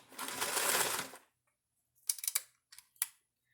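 A sewing machine stitches fabric in a sustained whirring run of about a second, then falls silent before a few short stop-start bursts of stitching, close and clear with no talk.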